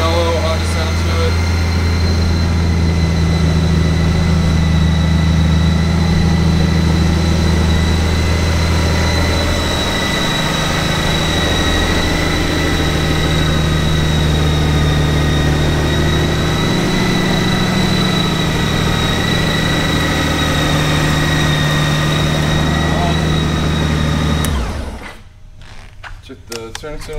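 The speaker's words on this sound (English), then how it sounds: "Fire it up. You guys can hear it run. Comes right to life." A 2014 Honda Goldwing motorcycle engine idles with a steady, smooth, mellow low hum and a faint whine, close and loud, before cutting off near the end; someone talks briefly over it.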